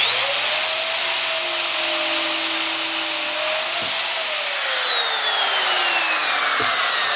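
Power drill boring dowel holes into wood, a loud, continuous high whine with a steady pitch that dips slightly as it bites, heard close up with no talking.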